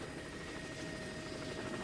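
A Sea King helicopter hovers during a winch rescue in Northumberland in 1987, its rotor and engine making a steady, dense, loud drone with no breaks or talk.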